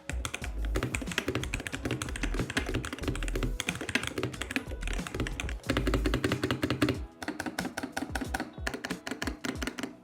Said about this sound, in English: here's a quick sound test of this gaming keyboard